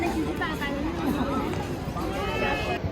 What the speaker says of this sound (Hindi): भीड़ है यहाँ पे, बहुत ज़्यादा क्राउड है यहाँ पे।